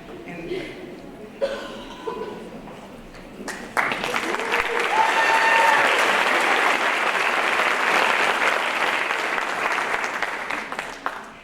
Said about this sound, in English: It is just fine if you want to